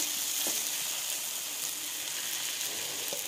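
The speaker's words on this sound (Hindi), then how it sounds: "तो टमाटर और हरी मिर्चें अच्छे से भुन चुकी हैं, अब हमने इसके अंदर अंडे ऐड कर देने हैं।" Steady sizzle of eggs frying with tomatoes and green chilies in a pan for an egg magaz dish, a constant hiss with a few soft clicks, close and alone.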